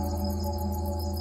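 Cricket chirping steadily and close, a continuous pulsing insect trill with a faint repeating high shimmer, heard alone with no voices, in a night setting where a slow loris hunts.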